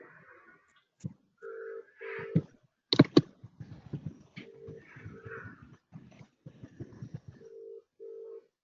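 A telephone is dialed, giving a series of short paired keypad tones in separate bursts, each followed by shorter clicks and rustling, with silent gaps between them and no talk.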